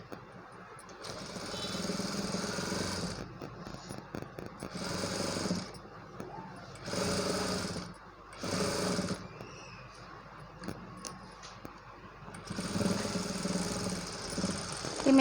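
A sewing machine stitches newborn baby clothes in several bursts of fast rattling whir separated by short pauses, close and moderately loud.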